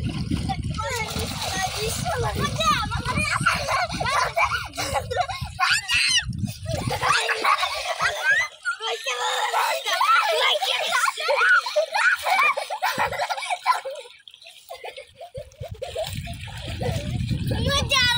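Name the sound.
village boys splashing while swimming and catching fish in water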